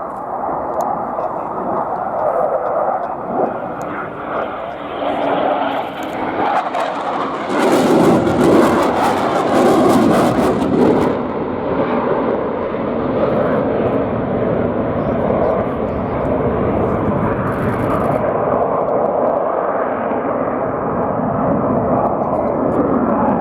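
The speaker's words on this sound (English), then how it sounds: "The tail aircraft there using the height to fly a bigger flight path through the sky" Austrian military jets flying an air display demo at an airshow, a loud continuous jet roar swelling as an aircraft passes and staying strong throughout, with talk heard over it.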